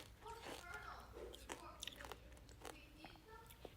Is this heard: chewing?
yes